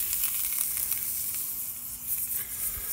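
Big shrimp sizzle in a hot wedge pan, a close continuous frying hiss with small crackling pops throughout and no talk.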